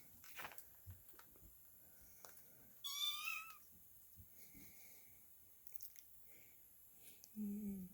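A roughly two-week-old kitten gives a few thin, high meows, fairly faint, with a lower squeaky cry near the end, amid quiet rustling and small handling noises indoors.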